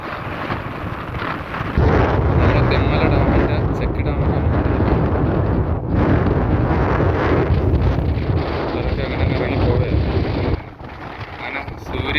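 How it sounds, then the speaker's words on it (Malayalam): Strong wind sweeps across the rocky hilltop of Pandavan Para near Thenmala, roaring and buffeting the microphone almost continuously for the whole span, easing only briefly near the end, with a voice partly buried beneath the gusts. "ഇവിടെ അടിക്കുന്ന കാറ്റെന്ന് പറയുമ്പോൾ കൊടുങ്കാറ്റാണ് കൊടുങ്കാറ്റ്"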